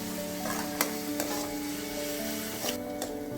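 Chopped onions sauté in a pan for a chicken bread cutlet, a steady close sizzle with occasional sharp clicks of a spoon against the pan.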